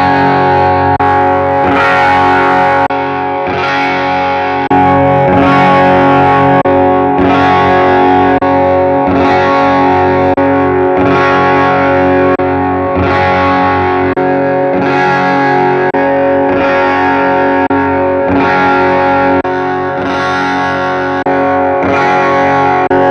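Heavily distorted electric guitar chords through a Hotone Ampero Mini's speaker cabinet simulations, strummed and ringing in a dense, loud wash with steady repeated attacks, a slight shift in tone between passages, no talking.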